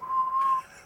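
A person whistles loudly with fingers in the mouth, producing one steady, clear high note held for about half a second, close by and alone.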